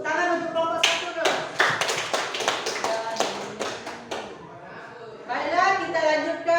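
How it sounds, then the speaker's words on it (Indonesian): A classroom claps for a student group in quick, uneven bursts of close handclaps, with voices and cheering woven through and a brief lull before louder voices return. "Tepuk tangan untuk kelompok 1 dulu."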